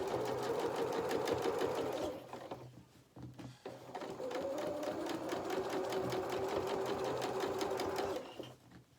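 A sewing machine stitches a doll's skirt onto its bodice. It runs steadily at a rapid pace, pauses briefly and starts again, then carries on evenly and up close.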